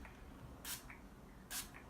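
Two short bursts of an illuminating body and face spray from a pump bottle, close and fairly soft, separated by a pause in a quiet room.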